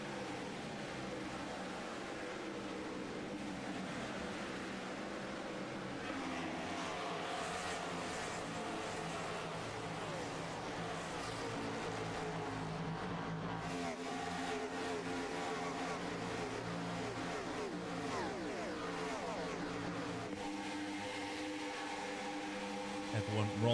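A field of 42 stock cars circulates on the racetrack during the 3M Performance 400 Winston Cup race in a racing video game, a steady droning roar of many engines with passing whines and shifting pitches throughout.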